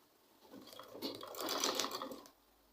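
Sewing machine runs a short burst stitching fabric for a spiral turban beside foam, a soft close buzzing that swells and fades over about a second and a half.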